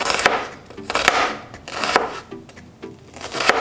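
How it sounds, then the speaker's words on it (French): Half an onion chopped with a knife on a board, a series of close, crisp thuds in uneven bursts, with no voices during the cutting. "je vais commencer par couper la moitié d'un oignon"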